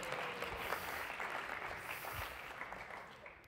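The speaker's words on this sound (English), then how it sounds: "Yeah, you can clap if you really feel like that was an accomplishment" An audience at a technical talk on rendering performance claps, a broad wash of applause that holds for a few seconds at moderate loudness and tapers off at the end.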